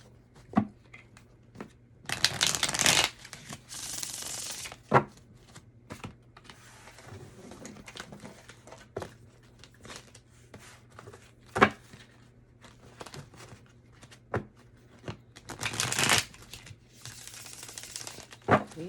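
Oracle cards are shuffled in quiet bursts, with two louder riffling flurries and scattered soft taps and slides of card stock between them, close and alone.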